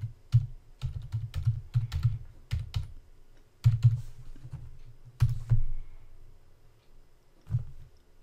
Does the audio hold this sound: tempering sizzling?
no